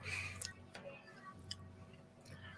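Cookies crunch as they are chewed close to the mic, with a few sharp bites and soft chewing clicks over a quiet indoor hum.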